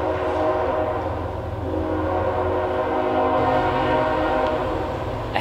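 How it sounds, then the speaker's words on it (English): A train arrives, a steady dense rumble with a sustained horn blast running through it, continuous and fairly loud throughout with no talk. "Train's here."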